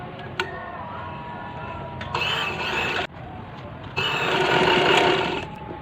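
A sewing machine stitches lace onto a child's frock in short runs, its whirring motor starting and stopping between pauses, fairly close and loud.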